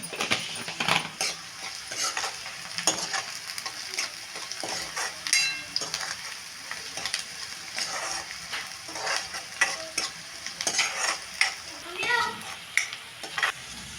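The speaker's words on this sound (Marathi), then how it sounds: "कांदा आपला छान तळलाय बघा" Onion frying in a pan with a little salt for pav bhaji, a steady soft sizzle under repeated scraping and clinking of a spoon stirring against the metal.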